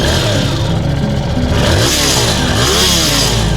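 A Hyosung GV300S Bobber motorcycle engine rumbles loudly and close, rising in pitch as it revs up twice over a few seconds.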